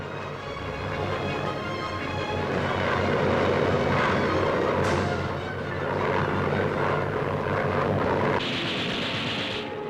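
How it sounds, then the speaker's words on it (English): Late-1944 fighter bombers fly overhead with a loud, steady drone of propeller engines that swells and fades a little as they pass, with no voices. "wave after wave of fighter bombers flying overhead made it very difficult for German forces to move off the ground"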